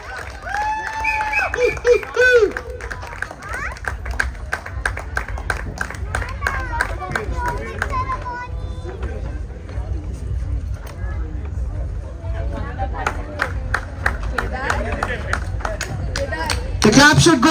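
An audience at a volleyball league closing ceremony claps and cheers, a dense patter of applause with crowd babble and voices over it throughout.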